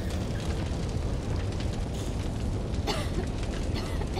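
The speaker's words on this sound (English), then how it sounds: "Your house is on fire!" A house blaze in the horror game Eternal Threads, a dense roaring rumble of fire with crackles and a couple of sharper bursts, loud and continuous with no talk over it.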